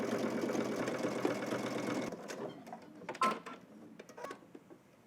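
A sewing machine bastes a jacket lining to the welt at a 5/8-inch seam allowance, running in a steady close whirring stitch for about two seconds before stopping, followed by a few quiet clicks and fabric handling sounds.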